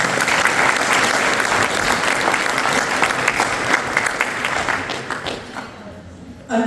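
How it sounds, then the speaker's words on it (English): Sustained audience applause at a karting association awards banquet, many hands clapping steadily in a room before fading out near the end. "Big hand of applause to you guys."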